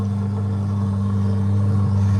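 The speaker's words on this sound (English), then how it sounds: "check out the Z06 over here that's about to leave" A Chevrolet Corvette Z06 idles nearby as it prepares to leave a cars and coffee meet, a steady low engine drone that swells slightly near the end.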